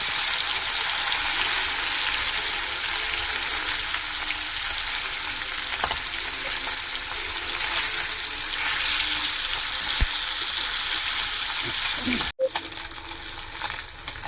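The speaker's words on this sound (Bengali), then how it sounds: "মাছটা ভেজে নিই। মাছটা তুলে দিচ্ছি, তেল গরম হয়ে গেছে।" Fish frying in hot oil sizzles loudly and steadily throughout, with occasional small pops and a brief sharp knock near the end.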